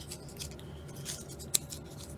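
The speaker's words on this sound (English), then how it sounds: "We're just crumpling it because we want the wrinkles like how a real petal has." Paper flower petals for a spring craft frame crumpled by hand, soft close crinkling and rustling throughout with one sharp crisp snap near the end, faint and without speech.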